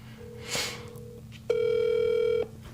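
A telephone call ringing out on the line: a brief tone, a pause, then one long electronic ring burst of nearly a second, clear and close over a faint background hum.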